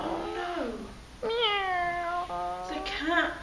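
A domestic cat meows in a few drawn-out, rising and falling calls, close and clear, used as a storytelling sound effect against a quiet background.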